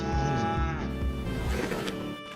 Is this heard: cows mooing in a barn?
yes